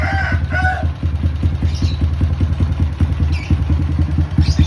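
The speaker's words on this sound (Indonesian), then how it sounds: "ini kita biarkan lama supaya ngetes untuk masalah langsam atau stasioner pada sepeda motor ya" A motorcycle fitted with a PWK DKT Racing carburetor, similar to a PWK 28, idles steadily up close with a fast, even run of engine pulses and a brief higher sound near the start.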